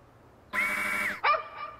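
A dog lets out two quick, sharp barks up close, the second higher and yappier, against near silence.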